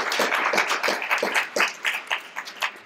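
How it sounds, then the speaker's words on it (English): An event audience at a bookstore-partnered gathering claps steadily, many hands forming a dense, close patter for a few seconds without talk over it. "Everybody clap."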